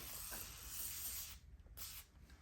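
Cleaner is sprayed onto small bicycle parts and screws during a Tarmac SL7 road bike tune-up, giving a steady close hiss that breaks into short spurts near the end.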